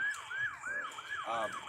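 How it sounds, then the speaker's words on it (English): A wailing emergency siren sweeps up and down repeatedly in a fast cycle, heard at a moderate distance. "I'm sorry about the siren"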